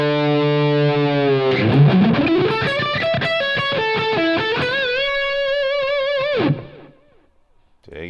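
Electric guitar lead tone played through a Line 6 HX Stomp with delay and reverb: a sustained distorted bend rising into a run of singing held notes and quick phrases, ending with a decaying tail into near silence.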